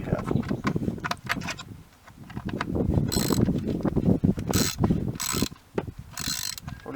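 A ratchet clicks rapidly and repeatedly while working on a Honda Civic door mirror, close and fairly loud, with mechanical rattles and bursts of higher grinding between the clicks.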